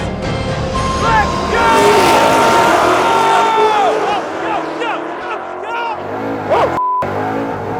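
Ford Mustang engines roar loudly as the cars race, with rising and falling revs and gear changes, while excited voices shout over the engine noise.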